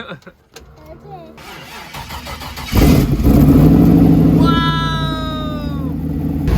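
LS1 V8 engine swapped into a Mitsubishi Eclipse cranking and firing up, bursting into a loud, rough idle and revs that hold strongly, with a high whine rising over it and voices exclaiming nearby.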